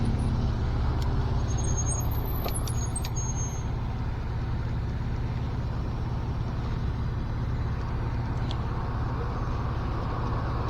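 Steady road traffic rumbles past a rider on an electric bike in San Bernardino, California, with a continuous low engine drone, a brief hiss that may be an air brake, and vehicles close by throughout.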